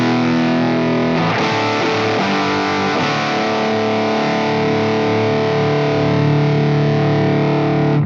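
Electric guitar played through a Wampler TCD overdrive pedal, a steady, heavily distorted chord ringing loud and sustained for the full stretch while its bass and EQ settings are swept to extremes, the tone shifting slowly without any voice.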